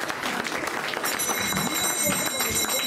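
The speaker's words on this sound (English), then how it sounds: "So please give a big round of applause." An audience at a Sunday evening devotional program applauds to welcome a special guest, a sustained wash of clapping from a crowd, moderately loud and continuous throughout, with voices mixed in underneath.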